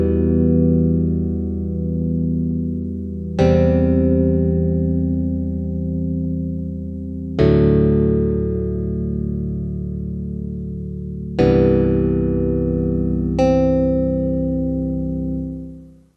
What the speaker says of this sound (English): I've just created a 4-chord progression using a really, really simple pluck.